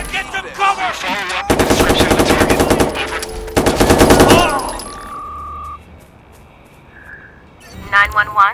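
Rapid machine gun fire in Watch Dogs rattles loud and close in two sustained bursts lasting a few seconds, with raised voices before and after and a short electronic tone as the shooting stops.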